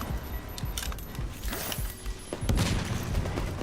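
Rapid clattering gunfire and dull booms from a video game, a busy, mid-level barrage of shots and impacts with a grenade blast in the mix, no talk.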